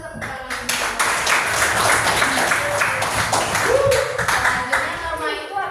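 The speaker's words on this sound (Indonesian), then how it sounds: "Kita berikan tepuk tangan." Classroom applause at a high school, a group of students clapping steadily and fairly close, with voices talking underneath throughout.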